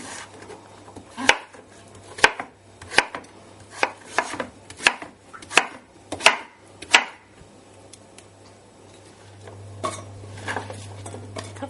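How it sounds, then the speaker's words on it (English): A knife chops peeled pumpkin strips into chunks on a cutting board, about a dozen crisp, close thuds in a fairly even rhythm, slowing and softening toward the end against a low hum. "I'm going to cut them into chunks."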